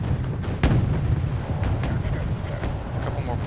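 Artillery fire and explosions from the video game Wargame Red Dragon rumble in a dense barrage, with one sharper boom early and steady distant thuds behind a speaking voice.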